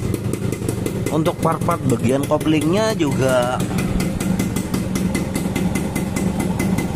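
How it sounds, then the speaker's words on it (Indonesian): A Suzuki Satria motorcycle with a new exhaust brought from Malaysia idles close by in a steady, crisp, buzzing throb, while someone talks over it for a few seconds before the engine carries on alone. "Nih suara knalpot baru, nenteng dari Malaysia, jadi masih garing banget, masih renyah."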